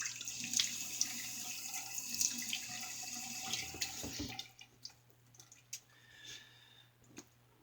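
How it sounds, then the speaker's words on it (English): Water running from a tap as something is rinsed under it, a steady close splash that stops midway, followed by scattered drips and light clicks in a quiet room. "Let me rinse real quick."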